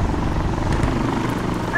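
A helicopter in the tactical shooter game Insurgency Sandstorm drones with a loud, continuous low rotor rumble and steady throb, filling the whole moment without pause.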